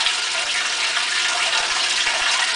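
Water pouring steadily into the tub of a 1958 Dominion automatic washing machine during its timed wash fill, a continuous broadband rush that stays even and moderately loud with no talk.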